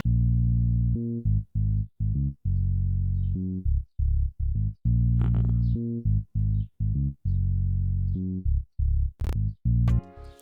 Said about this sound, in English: So this is how the bass sound like.